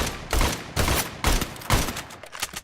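Four bursts of rapid gunfire in a Free Fire battle royale match, each lasting about a third of a second and spaced roughly half a second apart, moderately loud and crackly with no talk over them.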